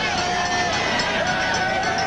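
A crowd of more than 80,000 at a Cleveland football game, Miami against Cleveland, fills the stadium with a continuous roaring hubbub, loud and unbroken, while a broadcaster talks over it.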